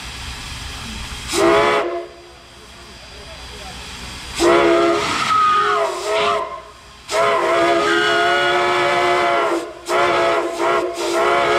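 Steam locomotive whistles, including a Reading 6 chime and the L&M Big Emma whistle, sound at a 2023 Kentucky Steam Heritage Corporation whistle blow: several long, loud, close multi-tone blasts over a steady steam hiss, with short gaps between.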